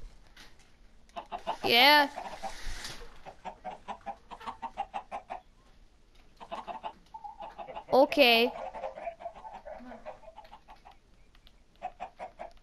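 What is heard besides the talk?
chicken clucking in a video game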